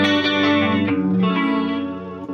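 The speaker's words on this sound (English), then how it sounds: "I use clean with chorus and reverb as my main kind of thing" Clean electric guitar played through chorus and reverb pedals, a few sustained chords shimmering with a wide, wavering chorus and a lingering reverb tail, close and steady with no voices.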